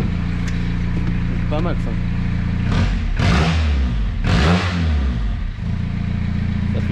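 A Peugeot 106 off-road build idles with a rough makeshift exhaust, then revs sharply twice in loud rising bursts before settling back to a rumbling idle, while someone speaks briefly over it.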